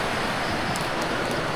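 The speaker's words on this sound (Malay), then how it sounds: "Jadi boleh dengar bunyi sungai di sebalik semak samun ni" Steady broadband rush of a river flowing somewhere below, hidden behind dense bushes near an abandoned house, a continuous even wash of water with no voices.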